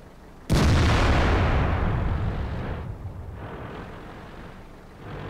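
A single loud tank cannon shot from a tank battle video game booms suddenly, then rolls into a long, slowly fading rumble, with no talking.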